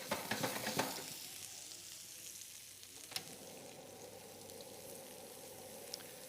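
A salmon fillet fries in a pan, making a quiet, even sizzle with faint crackle. A few light stirring knocks come early, and a single soft tap follows later. No one speaks.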